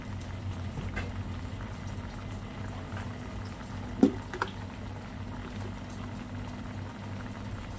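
Tamarind water for a coconut-milk curry with lotus stems and mackerel bubbles softly in a pot, a faint, steady low simmer with scattered small pops and one brief louder plop midway.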